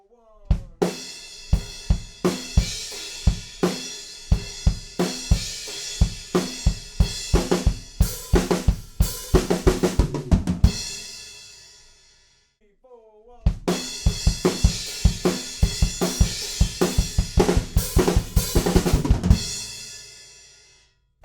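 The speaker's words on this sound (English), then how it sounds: "It's a pretty straightforward rock beat up on the crash cymbals, but the fill at the end is a bit weird for me." Drum kit playing the chorus rock beat of a song on crash cymbals, with driving eighth-note kick and washy crashes, loud and close, ending in a fill and then a short gap before the beat repeats.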